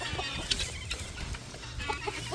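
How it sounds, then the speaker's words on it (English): Guinea hens and chickens cluck and murmur in a farmyard, several short calls scattered over low outdoor noise, fairly close and moderately loud. "these are our older flock of guinea hens and chickens"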